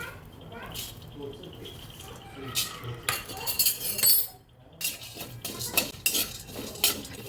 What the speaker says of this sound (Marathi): मी आता हे शेंगदाणे परतून घेऊ